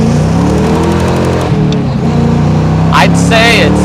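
A Ford Mustang Foxbody, just fixed after rusty gas clogged its fuel filter, hums and pulls away on a road test, engine droning steadily up close beneath cabin noise, with people speaking briefly near the end.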